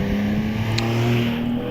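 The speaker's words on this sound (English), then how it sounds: "Graham Lokes in his Lola T492. This is Porsche engine." A Lola T492 race car with a Porsche engine drives a hillclimb course at Prescott, its engine droning loudly with a steady, rising tonal note and no voices.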